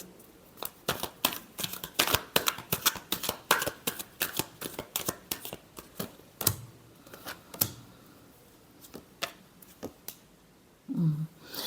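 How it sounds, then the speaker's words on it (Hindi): A deck of tarot cards gets shuffled in quick, uneven bursts of dry riffling flicks, loud at first and then sparser, ending with a soft breathy sound, close by and without speech. "Last shuffle."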